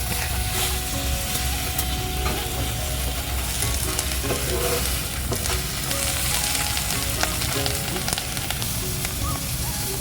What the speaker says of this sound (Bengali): এবার এর মধ্যে আমি সেদ্ধ করে রাখা দুটো আলু দিয়ে দিচ্ছি